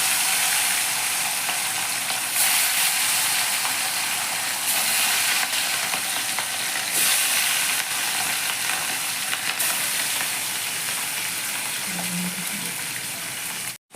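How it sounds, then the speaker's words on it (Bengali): Pieces of katla fish frying in hot oil give a steady, close, broadband sizzle that runs without pause and cuts off abruptly at the very end; no one speaks. "তো চলো এবার আমি ভেজে নিই মাছটাকে।"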